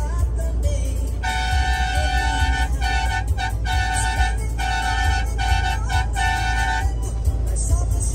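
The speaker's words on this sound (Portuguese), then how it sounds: "Um vídeo só de buzinada." A vehicle horn honks over and over on the road, a loud, close series of long steady blasts broken by short gaps, with engine rumble underneath and no speech.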